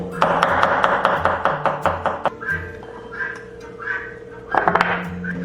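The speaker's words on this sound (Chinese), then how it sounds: "准备少许的红葱头，我们切圈。" A knife slices shallots into rings on a chopping board, giving a rapid run of crisp, close taps followed by a pause and a second short burst, with quiet background music throughout.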